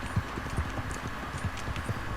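A horse's hooves clip-clop in a video game. The steady, rhythmic hoof thuds are fairly close and sound over a continuous background ambience.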